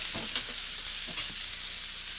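Pea pods flash fry in a hot pan for a couscous stir fry, giving a steady close sizzle with a few soft stirring clinks.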